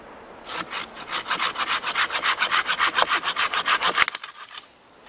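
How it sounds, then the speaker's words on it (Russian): A folding hand saw rasps through a thin piece of wood in quick, regular back-and-forth strokes, close and crisp, speeding up before stopping abruptly. "Сначала попробуем более тонкую часть складной пилкой отпилить."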